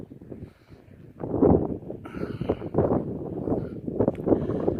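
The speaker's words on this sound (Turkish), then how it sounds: "rüzgar esiyor" Gusty wind buffets and roars in uneven surges, rising and falling with no voices present.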